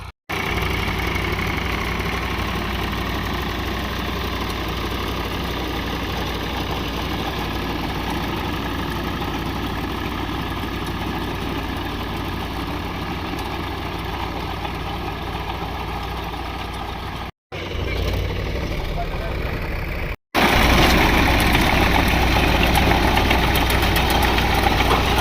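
A farm tractor engine runs at a steady idle, a low, continuous chugging drone that stays constant throughout, with a brief cut near the end before the engine grows slightly louder.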